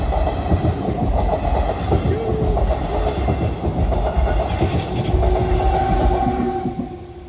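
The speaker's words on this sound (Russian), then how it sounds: "Сейчас поезд будет ехать" A train rolls past close by for several seconds with a loud rumble, clattering wheels and a brief horn-like tone partway through, then the noise eases off toward the end.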